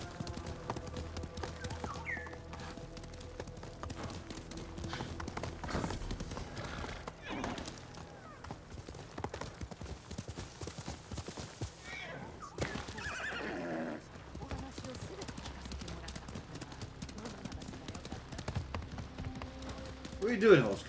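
Horse in the Ghost of Tsushima video game, heard neighing loudly and repeatedly while clip-clopping hooves gallop in a running rhythm close by, with someone talking over parts of it.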